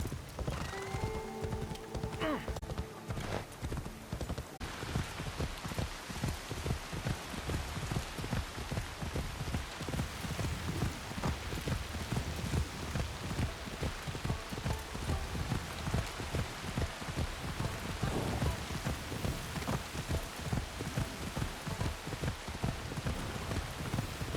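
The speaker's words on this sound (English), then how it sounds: "Here comes the rain." Rain patters steadily in Assassin's Creed Shadows, mixed with the rhythmic clip-clop of a horse's hooves and an occasional whinny, a dense continuous game soundscape with faint voices early on.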